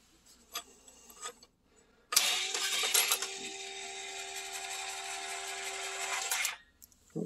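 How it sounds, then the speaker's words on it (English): Tecomec automatic chain sharpener starts with a few clicks, then runs as a loud steady grinding whine with a constant tonal hum for about four seconds before stopping abruptly. "here's the Tecomec chain sharpener"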